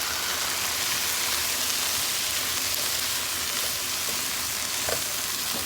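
Garlic and Roma tomatoes fry in a pan for a beef steak red chili, giving a steady, dense sizzle that holds evenly throughout with no talking.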